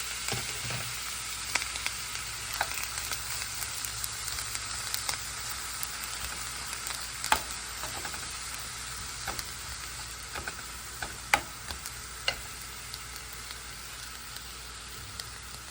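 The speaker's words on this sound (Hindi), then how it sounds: "अभी छोलों का मसाला बनाने के लिए प्याज डाल देंगे और इन्हें ब्राउन कर लेंगे।" Chopped onions frying in a pan for chole masala, a steady close hiss of sizzling oil with occasional faint stirring clicks and no voices.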